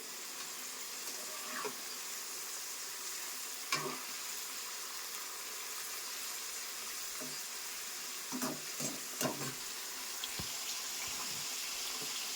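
Flat beans (broad bean pods) frying in a pan for a pickle give a steady, moderate sizzle, with occasional scraping stirs and light clinks breaking through.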